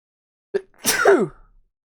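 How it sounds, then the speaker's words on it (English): A single sharp sneeze bursts out after a brief intake of breath, loud and close, then trails off into silence. "I'm gonna sneeze."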